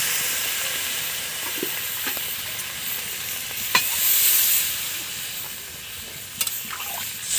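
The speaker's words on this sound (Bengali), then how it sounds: "আমি জল ঢেলে দিচ্ছি।" Water poured into a hot pan where fish and a bay leaf are frying, giving a loud close hiss and sizzle that swells and steams, with scattered clicks of utensils and no talk.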